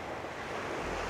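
Steady ocean surf washing in as a continuous broadband roar, close and moderately loud, with a windy edge and no voices.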